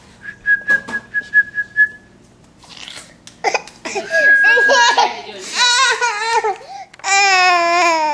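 A steady, slightly wavering whistle plays for a couple of seconds, followed by a young child's babbling, squeals and giggles up close.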